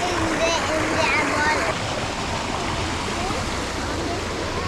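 Kuroyama Waterfalls in Japan pours close by as a loud, constant roar of rushing, splashing water, with faint voices, including a child's, mixed into the din.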